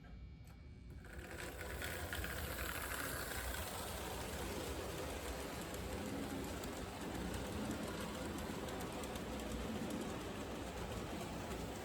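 A small model train, with a Burlington Northern caboose, runs steadily with a continuous whirring, clattering rumble that stays even throughout, fairly faint, and no voices are heard.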